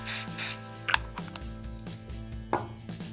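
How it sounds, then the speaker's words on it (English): Short hissing bursts of CA glue activator sprayed onto a glued wood veneer, two quick sprays up close followed by faint clicks and handling. "And then we'll hit this with some Activator."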